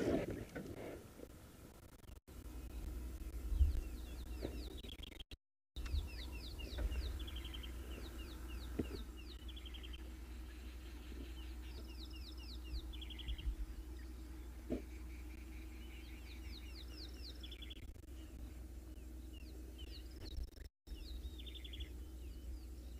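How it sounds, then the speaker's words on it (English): Birds call and chirp repeatedly around a dam on a sunrise safari, scattered high calls over a steady low rumble and ambient hum, moderately distant, with no talking. "Lots of bird calls."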